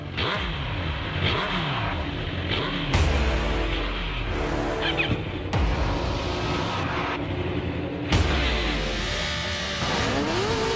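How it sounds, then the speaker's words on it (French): Superbike motorcycles, a Kawasaki, Suzuki, Yamaha and Honda among them, leaving the start line of a race, loud revving engines rising and falling through gear changes, several bikes overlapping close by. "Philippe Monneray anticipe le départ. Randy Depugné reste un peu scotché sur la ligne"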